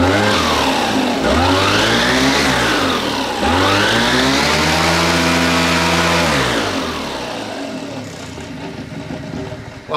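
An Atom 80 paramotor engine, being overhauled and tuned while running lean, revs hard with the throttle cracked open, its pitch sweeping up and down in two loud surges before settling to a rougher, lower drone, close by.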